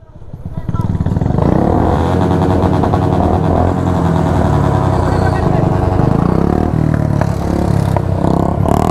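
Several Royal Enfield motorcycles rumble past on a morning ride near Nahargarh Fort, their loud, steady engine thump filling the whole stretch at close range with no pause.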